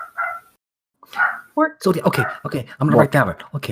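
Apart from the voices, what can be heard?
dog barking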